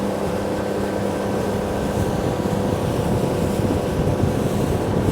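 Wind buffeting the microphone aboard a moving Boston Whaler 130 Super Sport, a loud steady roar of rushing air mixed with engine and water noise, continuous and close, with no talking.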